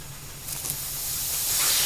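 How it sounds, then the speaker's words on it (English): Steam hissing from the boiler of an early Dutch steam car as the burner is fired up and pressure rises, a broad steady hiss that swells louder toward the end, heard alone. "the pair fired up the burner some more and let the pressure in the boiler rise"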